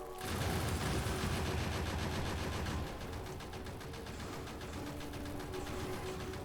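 Automated turrets in Factorio with Krastorio mod blasting biters, a dense rapid rattle of overlapping gunfire that is loud at first then settles into a slightly quieter sustained stream of shots.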